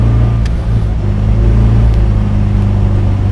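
A 1967 MG B Roadster convertible drives on a farm road, its engine droning loud and steady close by as it pulls up through the gears, with low rumbling harmonics throughout.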